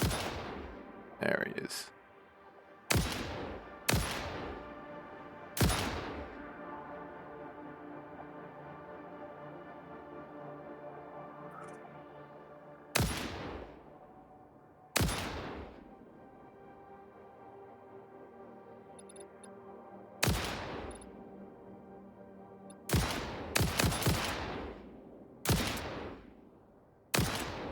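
Single heavy gunshots ring out one at a time in the video game Satisfactory, each a sharp loud crack with a long echoing decay, spaced several seconds apart with a quick pair near the end, while a voice talks briefly.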